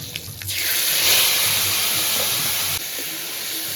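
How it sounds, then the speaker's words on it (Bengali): Shukto, a Bengali vegetable curry of eggplant and green banana, is poured into a pan of hot oil with mustard seed tempering and salt, setting off a loud, steady hiss that rises, holds, then drops back to a lower sizzle. "এবার শুক্তোটা ঢেলে দেব"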